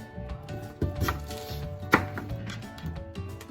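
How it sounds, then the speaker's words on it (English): A knife chops sweet potatoes into thick chunks on a board, a series of close, irregular thuds and knocks with a sharper crack near the middle, no voices. "you're just going to want to basically cut them in thick chunks, like me"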